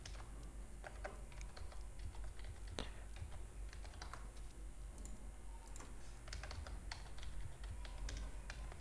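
A password being typed on a computer keyboard while filling in an online job application form, heard as a steady patter of soft, quick key clicks at moderate distance over faint room noise, with no speech.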